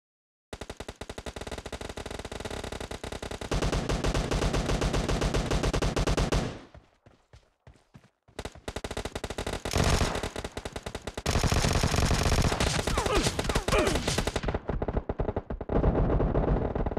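Kar98 and Vector gunfire in a video game rattles out in loud, rapid automatic bursts, with a short break in the middle before the heavy shooting starts again.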